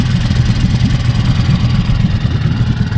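A small outboard engine on a little inflatable boat runs steadily after starting, a loud, continuous buzzing drone close to the microphone with no speech.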